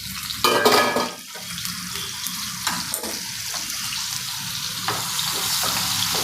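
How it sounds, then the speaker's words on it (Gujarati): Chopped onion sautés in oil in a pan for a dhaba-style drumstick curry, a close, steady frying hiss with stirring scrapes and a louder burst near the start, without speech. "કાંદાને બરાબર તેલમાં સાતડી લેવાનો થોડોક ચડી જાય ને ત્યાં સુધી"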